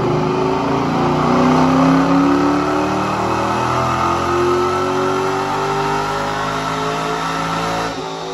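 A V6 Dodge Charger with over 200,000 miles revving on a dyno, a loud, close engine climbing steadily in pitch through a long sustained pull before easing off near the end.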